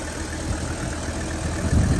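A diesel engine runs at low revs around 800 to 1,000 RPM during an air-conditioning system flush, giving a steady, loud, close rumbling drone that swells slightly near the end.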